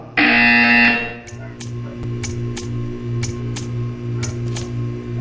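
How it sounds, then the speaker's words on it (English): A loud electronic buzzer sounds once for about a second in the Portal 2 video game, followed by a string of faint sharp clicks over a low rhythmic hum. "You will hear a buzzer."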